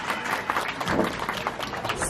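An audience at an Ontario safari park bird show applauds, with a brief burst of dense, scattered clapping from a crowd.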